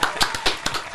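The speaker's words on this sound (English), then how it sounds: "Can we get a round of applause?" Studio audience applauding a guest on a talk show, a dense burst of clapping with several louder surges across the second, close and steady.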